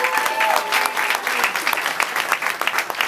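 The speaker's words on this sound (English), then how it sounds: "Give him a big round of applause" Indoor audience at a community event applauding after a board chair is introduced: dense, steady clapping from many hands, fairly close and loud throughout, with a brief voice at the start.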